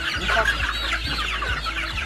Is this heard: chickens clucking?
yes